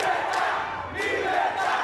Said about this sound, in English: Libertad, the crowd in Havana shouts, or freedom.